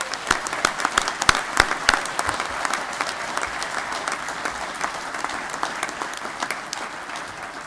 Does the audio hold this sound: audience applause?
yes